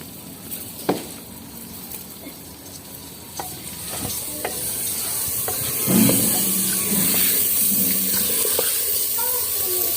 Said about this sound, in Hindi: अब हम इसमें जो है ना मटर डालेंगे